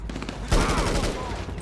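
Rapid gunfire rattles in GTA Online, with a loud burst hitting about a third of the way in and then a dense, continuous volley of shots close at hand.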